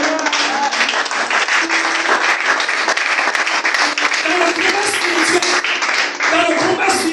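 Church congregation applauds loudly and continuously during a service, dense clapping mixed with shouts and voices from the crowd, with cheering tones rising over it throughout.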